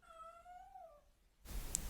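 A pet cat gives a single drawn-out meow in a quiet room, close and clear, then falls silent as a brief rustle follows.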